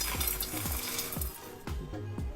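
Raw banana palya ingredients being roasted and stirred in a pan over a low flame, a soft sizzle beneath repeated scraping strokes of a spatula against the pan, close and steady.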